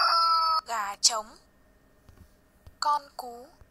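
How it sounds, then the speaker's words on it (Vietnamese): A rooster crow from a children's learning game about animal sounds, played as loud synthetic toy-like bursts with chiming tones, a short crow in the middle and another burst near the end. "Gà trống."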